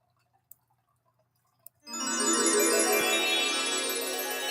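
Hot coffee pours into a cup in a steady, full-bodied splashing stream that starts abruptly after a couple of faint clinks and taps, close and loud, with no talk.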